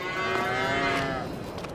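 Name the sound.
cow mooing in Farming Simulator 22 video game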